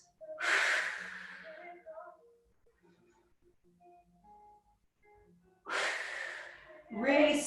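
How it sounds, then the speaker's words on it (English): Deep, audible breaths during a floor exercise: a long airy inhale near the microphone, a quiet gap with faint murmured voice, then another strong breath and a rougher exhale at the end. "Nice deep breath."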